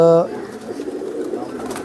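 A Ferozpuri racing pigeon gives a brief, close coo, heard with people talking nearby.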